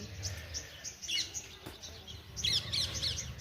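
Sparrows chirp in scattered bursts at sunrise, brief high tweets clustering early and again near the end, over a low ambient rumble outdoors.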